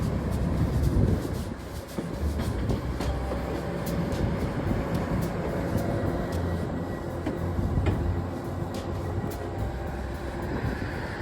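An electric multiple-unit commuter train on the Harlem Line rumbles past continuously, with a low heavy roar and a steady rhythmic clatter of wheels over rail joints, loud and close.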